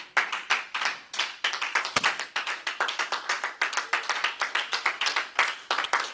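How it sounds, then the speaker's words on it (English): A church congregation claps together in worship, many hands striking in a fast, steady rhythmic beat that fills the room, with one brief low thump partway through. "I invite you to clap for Jesus"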